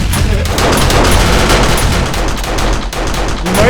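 Automated turrets blaze away at a zombie horde in the survival game 7 Days to Die, a dense, unbroken fusillade of gunfire and booms at high volume with no pauses.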